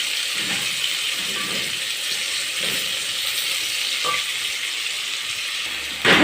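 Onions frying in a pot as the base for pilau, giving a steady, even sizzle with a few soft knocks and a louder clatter at the very end.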